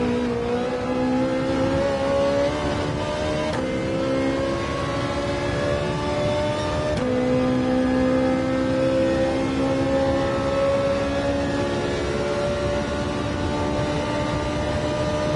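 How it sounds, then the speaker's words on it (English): Race car engine in Gran Turismo 7 at the Daytona Road Course, revving hard and steady through the gears with a brief shift dip, loud and continuous with no talk over it. "Rev it right out. 5th especially."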